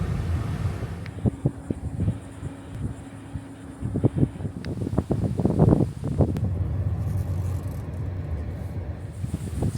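Steady wind buffets the microphone outdoors at the manatee observation deck on Merritt Island near Cape Canaveral, with a constant rushing roar punctuated by intermittent thumps and gusts.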